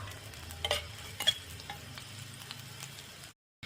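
Black cumin seeds and ginger fry in hot oil in a pan, making a soft, steady sizzle with a few faint crackles, quiet and close, before it cuts briefly to silence.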